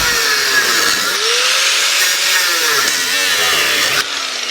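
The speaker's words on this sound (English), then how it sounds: "I did a nice long cut along there with the angle grinder." An angle grinder makes a long cut through a bulkhead retainer weld in a VW T5/T6 panel van, a loud, close, continuous whine that wavers in pitch as it bites, then eases slightly at the end.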